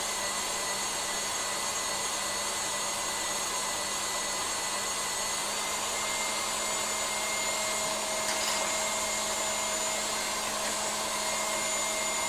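An electric mixer whisks quark for mini desserts at a raised speed, a steady, loud, whining motor drone that runs unbroken throughout with no talk.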